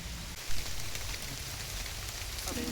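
Steady rain falls outdoors during a walk to gather wild mushrooms, a dense, even hiss of drops landing on surfaces. It runs continuously without pause, and there is a brief louder patter near the beginning.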